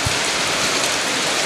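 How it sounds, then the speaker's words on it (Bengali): Heavy, continuous rain falls over a flooded village at Ziyanagar, Pirojpur, as a steady, loud, dense hiss of drops that fills the whole clip without pause. "চারদিকে বৃষ্টি আর বৃষ্টি, থই থই পানি"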